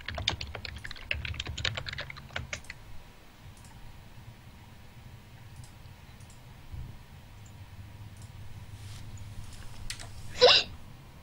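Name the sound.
hiccup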